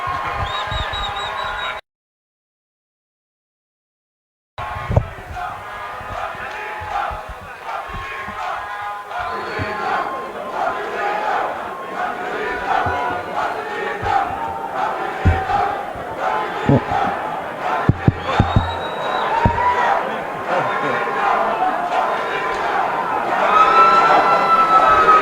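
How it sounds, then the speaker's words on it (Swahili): An outdoor crowd at a political anniversary celebration in Kenya applauds and cheers loudly, swelling into sustained clapping and shouting after a brief silent gap, with scattered whistles and cries rising over the roar. "Makofi kwake."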